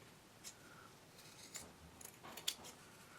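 Scissors trimming a paper egg template give a few faint, sparse snips and light paper rustles, close by but very quiet, with no talking.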